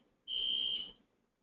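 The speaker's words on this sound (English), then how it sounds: "here's the alarm starting" A fire alarm sounds in an indoor meeting room as a single sharp, high electronic beep of under a second, loud against an otherwise quiet room.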